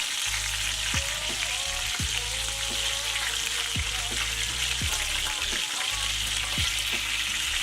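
Beef patties for Salisbury steak fry in a cast iron skillet with a steady, close hiss and crackle. Periodic low thumps and clicks of the pan or utensils land about once a second.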